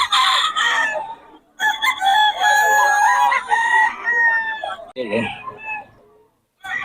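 Roosters crow repeatedly, long strained calls overlapping each other, with scattered clucks and a short pause near the end.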